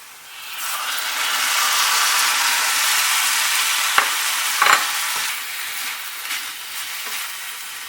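Chicken pieces added to sautéed onions sizzle steadily in a pan for Pallipalayam chicken fry, a continuous close frying hiss with a few sharp clinks and scrapes of stirring and no talk.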